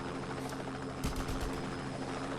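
Rallison helicopter engine in a video game gives a steady, faint rotor hum with a low thrumming beat, running continuously with a slight thump near the middle.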